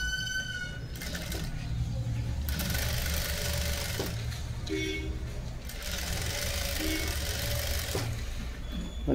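A sewing machine stitches a lehenga with a fast, steady whirring clatter in two long runs separated by a short pause, while someone speaks softly over it.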